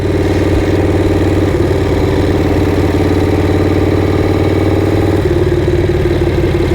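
A motorcycle engine runs steadily and loud throughout while riding a backroad along Okanagan Centre Road in BC, a continuous low rumble with a shift in tone partway through and no talking.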